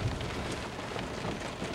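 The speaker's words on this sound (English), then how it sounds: "when it rains in California, it pours" Heavy California rain pours down in a steady, dense roar of hiss and patter, unbroken throughout and with no voices.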